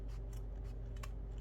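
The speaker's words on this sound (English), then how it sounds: "It is a pair of scissors, but it seems to be good enough to cut the material as well." Scissors slice through fabric for junk journal ephemera in a few quick, soft snips, close up and quiet over a low steady hum, with no talk.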